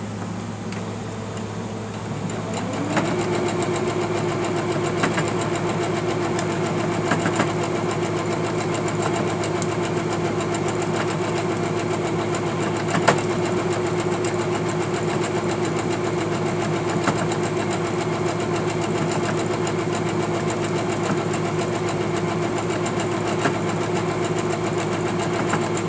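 Sewing machine stitching fabric quilt blocks starts up after a brief quiet moment and then runs as a steady, close mechanical hum with a fine rhythmic whir, with no talking.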